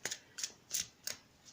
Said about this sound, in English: We're going to go ahead and give another shuffle